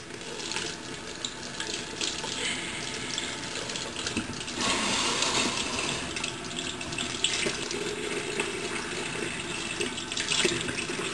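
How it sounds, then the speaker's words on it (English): Steady rush of hot water pouring from a faucet into a sink while a hairbrush is rinsed, continuous and close, with slight splashing changes partway through. "turn on the hot water only and just rinse the brush real quick"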